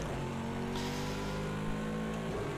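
BMW Z4 and Porsche race cars roar past at Bathurst in Project CARS 2, a loud continuous engine drone with shifting revs and no pauses.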